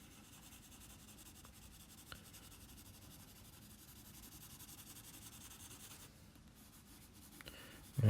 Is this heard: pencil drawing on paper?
yes